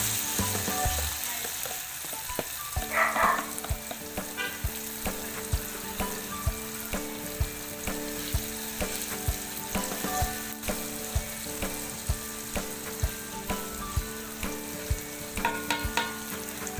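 Mashed tofu fries in a pan with vinegar, giving a continuous close sizzle over a low steady hum, with regular faint ticking and occasional stirring scrapes and clicks throughout, with no talk.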